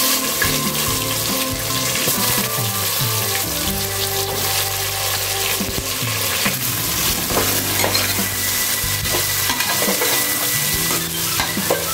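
Onions fry over a low flame for mushroom biryani, with a continuous close sizzle and repeated stirring clatter from the pan throughout, and no voices.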